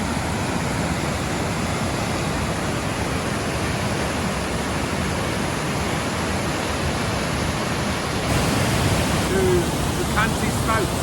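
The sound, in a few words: waterfall rushing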